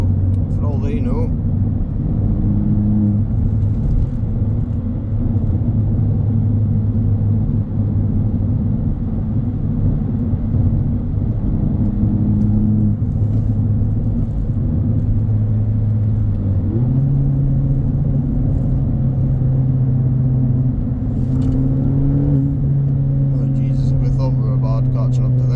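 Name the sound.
car engine noise while driving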